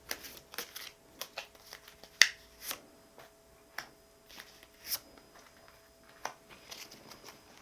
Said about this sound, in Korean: 두 장의 카드를 더 뽑아볼게요